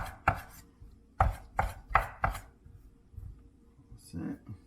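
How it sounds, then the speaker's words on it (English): Knife chopping Japanese A5 wagyu beef trimmings on a board, a burst of close, sharp chops with short pauses, followed by brief soft speech near the end. "I'm just going to chop this up."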